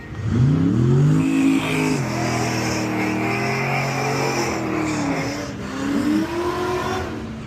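Loud pro modified drag racing car engines at Bradenton Motorsports Park, Florida, rev and roar continuously, pitch rising and falling through sharp throttle blips, close by with no talking.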